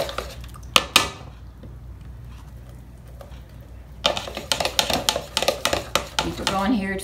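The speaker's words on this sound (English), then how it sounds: "Put a little bit at a time and mix it as you go." Flour being mixed into dough in a bowl for fried apple pies, with soft tapping and scraping strokes that grow busier and more rhythmic in the second half, close and moderately loud; no talk is heard.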